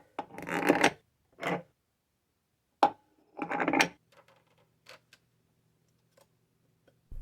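Glass facets are smoothed and polished on a lap, heard as several short bursts of rubbing and grinding with quiet gaps between them, then faint scattered ticks near the end.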